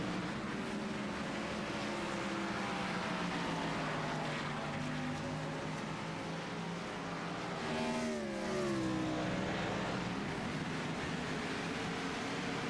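Race cars at speed on the track during a 2005 Sirius at the Glen Cup Series broadcast, a continuous loud engine roar with one car's pitch sweeping past around the middle of the clip.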